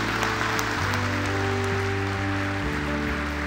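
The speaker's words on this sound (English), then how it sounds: "Come on, give him a big hand." Church congregation claps to welcome a guest speaker to the pulpit, a dense steady wash of applause throughout with music or tones held underneath.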